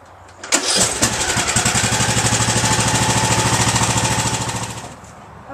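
A Craftsman YT3000 riding lawn mower engine starts with a sputter and settles into a loud, rhythmic chugging idle close by, then cuts out near the end.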